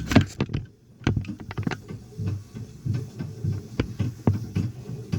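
A Singer 127 sewing machine's bobbin winder runs with a low, rhythmic throbbing hum and soft regular mechanical thumps, close by with no talk.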